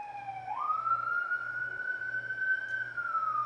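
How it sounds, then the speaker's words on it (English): A wailing siren rises and holds a steady high sweep, loud and continuous, like a passing emergency vehicle, with a faint pulsing low hum underneath and no voices. "And then we hear the siren."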